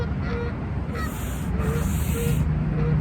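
Goose honking nearby outdoors at a fast-food restaurant, a few loud repeated honks over steady low background noise.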